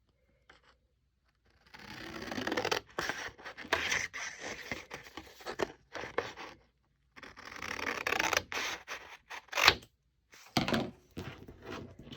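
Scissors cut a book-cover piece out of paper by hand, snipping and rasping in uneven bursts separated by brief silent gaps, close to the ear, with no talking.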